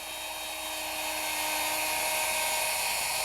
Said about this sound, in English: you guide the router along one fence,